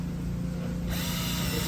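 A power drill boring holes into a boat's structure on deck, a steady continuous whir that shifts to a harsher, brighter grind partway through, close and loud with no talking.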